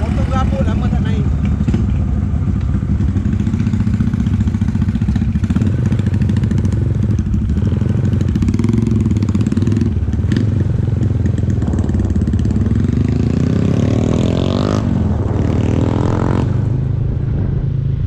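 A motorcycle engine runs steadily throughout while riding, loud and close with continuous road and wind noise, a sustained drone that shifts slightly in pitch as the bike moves.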